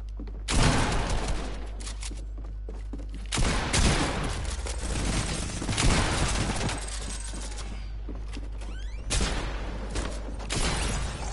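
Shotgun fire in a video game shootout inside a building: loud, booming blasts in clusters, with heavy rapid fire between the bigger bangs and no speech over it.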